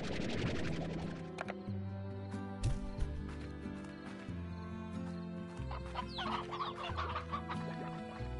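Hens in the video game Slime Rancher cluck repeatedly in busy, overlapping bursts over a looping musical backdrop with steady low notes, close and clear without any talk.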